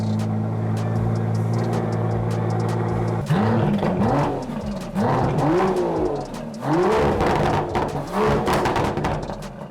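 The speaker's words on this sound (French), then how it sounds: "on a évidemment la vocalise du V12 qui est absolument immense" An Aston Martin DBS Superleggera V12 idles with a deep, steady drone, then gives a series of loud, sweeping throttle blips rising and falling several times up close, with no speech.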